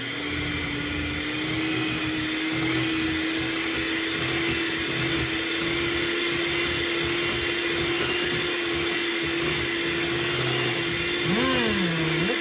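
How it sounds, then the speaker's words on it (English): An electric mixer whirs steadily as butter, white sugar and dark brown sugar are beaten together for cookie dough, with a constant motor drone and scraping throughout and no talking. "Now I am going to mix these ingredients together with the butter"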